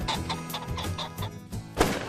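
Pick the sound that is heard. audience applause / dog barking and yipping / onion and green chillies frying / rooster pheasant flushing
rooster pheasant flushing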